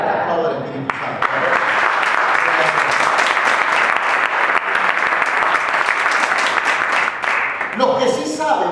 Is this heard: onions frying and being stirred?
no